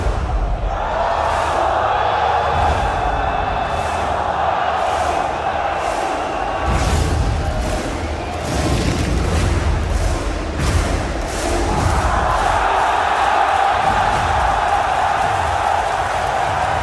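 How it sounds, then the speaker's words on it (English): A crowd roars in the Rocket League video game, a loud sustained wash of cheering that swells and holds over the whole stretch, with a few thumps mixed in. "I just want to hear the crowd."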